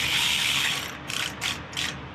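Quarter-inch ratchet tightening a hose clamp on a 2017 Indian Roadmaster Classic motorcycle, loud close buzzing ratchet strokes, a long sweep then three shorter bursts, with no talk.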